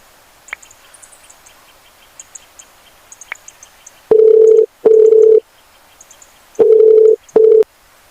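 A telephone line while placing a call: faint beeps first, then a steady tone sounding in four loud bursts, two pairs separated by gaps, with no talk.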